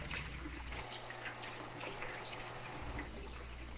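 A shower runs in Grand Theft Auto V, a steady hiss of spraying water, fairly quiet and continuous, with no talk over it.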